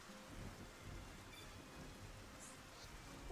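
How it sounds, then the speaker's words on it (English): Steady, non-stop rain falls in Xenoblade Chronicles: a soft, even hiss of rainfall with no breaks, fairly quiet and with no voices over it. "Oh, it's just raining non-stop here."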